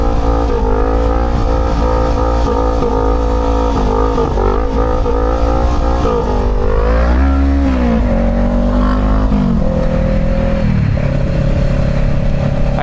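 A motorcycle fitted with a new chain and tire revs in traffic, its engine loud and close, the pitch climbing and dropping through gear changes, with other traffic noise around it.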